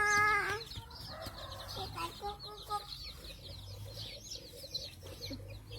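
Chickens cluck and squawk nearby in a busy farmyard, with overlapping calls throughout and occasional voices in the background.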